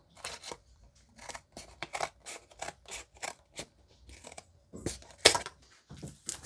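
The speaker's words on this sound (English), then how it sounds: "Then you would just get a pair of scissors and lob that up." Scissors snip through paper while a composition-notebook junk journal is trimmed down to size, a quick run of crisp, close cuts in an uneven rhythm followed by a louder rustle and a few more snips.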